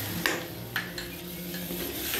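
Beaten yogurt is stirred into chicken curry in a pan, with a few scraping strokes of a spoon against metal over a low steady background.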